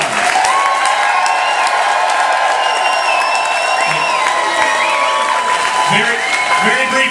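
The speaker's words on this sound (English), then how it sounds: "give them your applause." Audience at a cruise ship farewell party applauds and cheers in a steady, dense roar of clapping with whoops rising through it, a voice on the public address carrying over the crowd.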